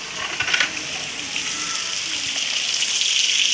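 Water splashing and spreading across the floor of a house during a wash-down, a steady hissing wash with a brief louder gush near the start, close and continuous with no talk.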